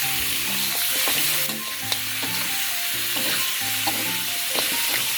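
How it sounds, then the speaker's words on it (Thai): Pork ribs stir-fry in a wok with garlic and coriander root, a steady dense sizzle broken by repeated spatula scrapes and clinks, while tonal music plays softly underneath. "เราจะผัดซี่โครงหมูของเขาให้ สุกก่อนเลยครับ"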